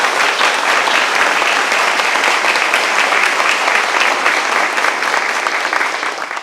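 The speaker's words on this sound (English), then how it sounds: "Let's give them a round of applause." Loud, sustained applause from a crowd at a community center ribbon-cutting ceremony in Penacook, steady throughout and tapering slightly at the end.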